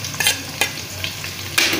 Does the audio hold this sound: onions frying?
yes